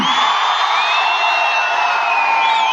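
Boys in the audience at the Ghatal festival and children's fair clap and whistle together, a loud, dense, continuous wash of applause with several shrill sustained whistles riding on top.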